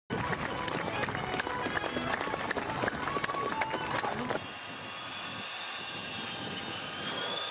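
A SoloTürk aerobatic jet making a very low landing pass, heard from a distance as a loud jet roar mixed with crowd noise and sharp clapping, then fading to a steadier distant whine.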